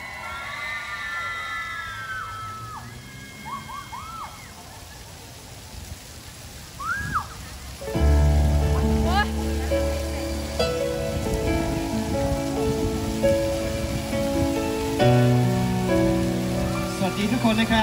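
A crowd at a Siam Paragon concert applauds and cheers in a dense, hissing wash with scattered whistles and shouts to welcome a singer, then live music kicks in loudly halfway through.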